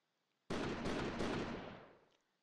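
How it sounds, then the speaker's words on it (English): A fusillade of gunshots in the video game Code: Realize: a loud sudden burst of overlapping shots with a few sharp cracks in quick succession, then a longer tail that fades out. "faster still are a fusillade of gunshots"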